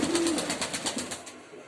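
A young female pigeon coos close by in a brief low murmur at the start, followed by a few soft rhythmic pulses against steady background noise.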